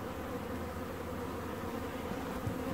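Honey bees swarm around a single backyard hive in September on the island of Newfoundland, their steady, dense buzzing filling the air with no pauses and no voices.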